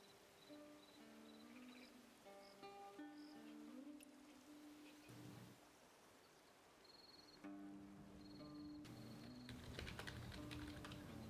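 Quiet computer keyboard typing in bursts over game music and soft electronic tones, clicks faint and partly masked.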